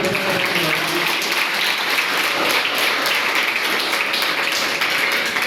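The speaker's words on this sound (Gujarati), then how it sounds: "એના માટે એકવાર જોરદાર તાળીઓથી" Steady applause from an audience at a Rotary Club birthday celebration event, dense and continuous clapping at moderate level throughout, with no break.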